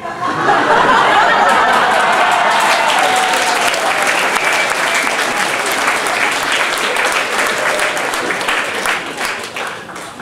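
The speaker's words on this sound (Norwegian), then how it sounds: "og dere klapper meg." An audience claps loudly and steadily for about ten seconds before a performance by a group of older men singing music, with a few chuckles mixed in as the clapping slowly fades toward the end.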